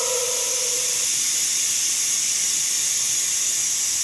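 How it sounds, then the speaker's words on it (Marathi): A pressure cooker of rice and chickpeas, left after several whistles, vents steam in a steady loud hiss that runs unbroken and close, with a faint tone fading out early and no speech. "अरे अरे अरे, वाफ निघाली की आजी."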